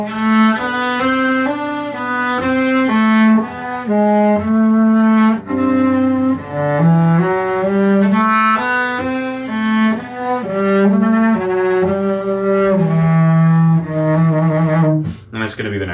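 Cello playing a flowing solo line of rising arpeggios and falling figures from Marcello's Sonata in E Minor, close and sustained throughout.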